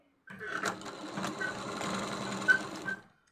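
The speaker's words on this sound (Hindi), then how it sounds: "उसके बाद हम आपको सिलाई लगा करके दिखाते हैं।" Household sewing machine running and stitching, a close, rapid mechanical whirring and clattering that starts, runs steadily for about three seconds, then stops, with no talk.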